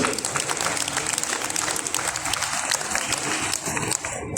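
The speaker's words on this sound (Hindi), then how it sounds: "उनके लिए भी चाहूंगा जोरदार तालियां बजें।" A crowd at a Narayan Seva Sansthan event for disabled people receiving artificial limbs breaks into loud, sustained applause, dense and continuous before thinning out at the very end.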